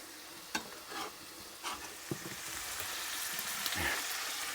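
Shakshuka ingredients fry in a pan, with a steady sizzle running underneath and a few knocks and scrapes of stirring breaking in over it, all close by.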